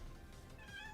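A cat meows once, a short close call rising over steady low room noise in a quiet indoor setting, with no talking.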